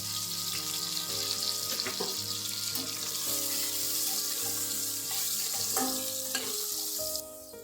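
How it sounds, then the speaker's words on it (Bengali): Potatoes fry in hot oil with a loud, continuous sizzle, broken by occasional clinks of a utensil against the pan. "এই তেলে আমি আলুটাকে ভেজে নিব, হালকা করে ভেজে নিব।"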